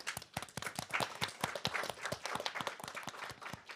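Audience applause at a business competition final round, a dense patter of many hands clapping steadily throughout, fairly quiet and distant.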